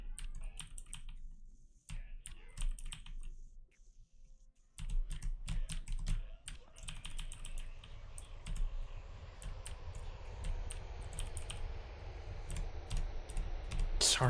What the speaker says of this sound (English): Sorry for typing an essay.